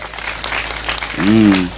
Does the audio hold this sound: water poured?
no